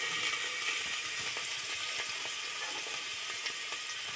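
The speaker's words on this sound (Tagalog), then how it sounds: "Dito naman sa kaldero guys, naglagay na ako dito ng mantika. Kaya ilalagay ko ng aking bawang dyan." Garlic fries in oil in a cooking pot, a faint, even sizzle that holds steady throughout, with light scattered crackles and no talking.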